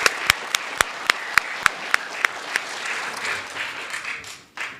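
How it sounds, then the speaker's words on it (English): An audience applauds in a competition hall, a few sharp, evenly spaced claps near the front standing out over a steady wash of clapping that thins toward the end. "Can we give our MCs a big round of applause?"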